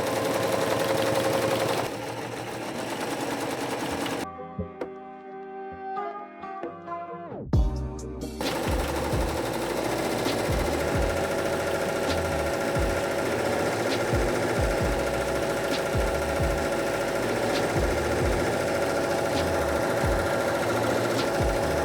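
Six-head embroidery machine stitching 3D puff designs on Richardson caps, a loud rapid mechanical hammering and rattling that briefly quiets, then starts up again and runs steadily to the end.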